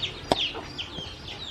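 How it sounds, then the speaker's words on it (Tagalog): Farmyard chickens cluck in short, scattered calls, with one sharper squawk near the start, close by over a low outdoor background. "Ang manok."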